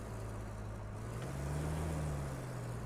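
A truck engine in RoadCraft revs up and accelerates on its own, a steady low drone that climbs in pitch midway and holds loud and continuous, with no talk over it.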